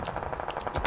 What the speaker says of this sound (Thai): เฮ้ยข้างบนยิง